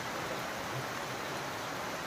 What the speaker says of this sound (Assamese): আপোনালোকে এনেও মাত শুনিছে চাগে টিঙৰ শব্দ